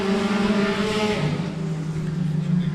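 Mini stock compact race cars starting a heat race at a local dirt speedway, a dense rumbling blend of several engines droning together at moderate distance.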